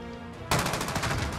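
A sudden burst of rapid automatic gunfire breaks in after a quiet moment in Modern Warfare, loud and close, firing in a fast steady rhythm to the end.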